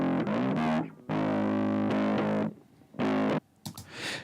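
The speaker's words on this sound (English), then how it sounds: "Like for this sound, for the top distortion, my recommendation would be find a saturator for afterwards and a wave shaper" A heavily distorted synth bass in the style of Twenty One Pilots' "My Blood", its top distortion layer playing loud, gritty sustained notes in short bursts separated by brief gaps, with no talking.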